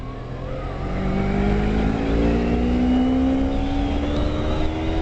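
A motorcycle engine drones steadily as the rider slows and drops from fifth to fourth to third gear, the loud continuous tone shifting in pitch with each change, close and alone.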